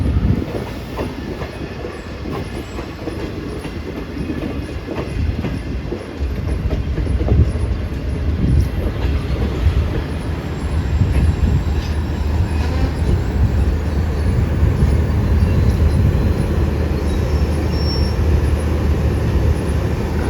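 The 28DN Shalimar Express, running from Lahore to Karachi, rumbles along with loud, continuous wheel clatter and rattling coach noise heard from on board, steady throughout.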